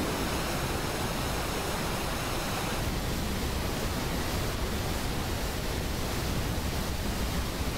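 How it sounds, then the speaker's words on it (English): Broad, steady roar of a waterfall at the edge of the world in a Final Fantasy XII cutscene, a loud unbroken wash of rushing water holding constant throughout. "True, waterfalls are also loud."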